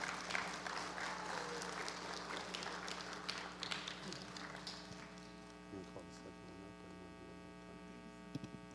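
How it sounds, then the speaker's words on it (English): A synagogue congregation at a Shabbat service applauds an award winner, a moderate spread of clapping over steady mains hum that thins out after about five seconds to a few scattered claps. "let's give Rhodes a little applause"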